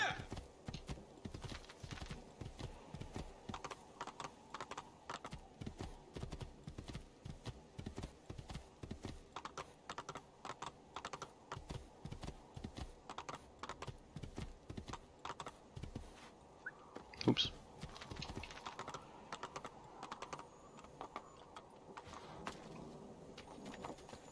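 Horse hooves gallop in Assassin's Creed II, a steady rapid clip-clop running nearly the whole time with a brief whinny-like burst near the end, mid-distance and fairly faint, under light game ambience.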